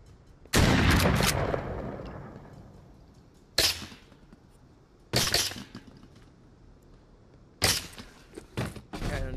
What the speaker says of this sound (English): I'm just gonna go sneak up and shoot that guy in the face real quick